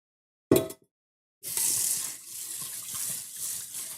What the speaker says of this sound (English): So let me just give that a quick scrub and rinse.